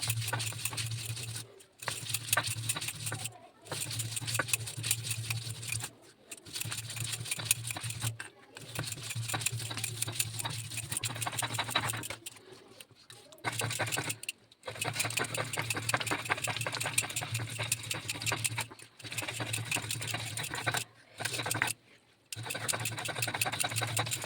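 Onions being ground into a paste for a Bengali spiced eggplant and snail curry, a steady mechanical whir with brief pauses between runs, close and loud.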